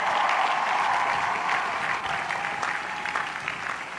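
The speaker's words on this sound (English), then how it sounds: "Let's give the parents and the families a big hand of applause." An audience applauds parents and families at a graduation-style ceremony, sustained dense clapping that stays strong and even for the whole stretch, slightly easing toward the end.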